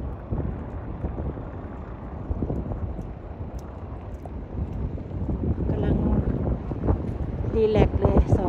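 Strong wind buffeting the microphone outdoors in a village, a continuous roaring rumble throughout while someone talks over it.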